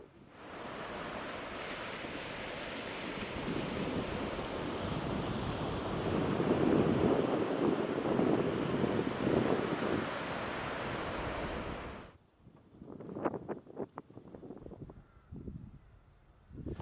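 Waves break and wash steadily onto an empty beach on the North Wales coast, with a loud, continuous surf roar and some wind noise for about twelve seconds before it cuts to quieter, scattered sounds.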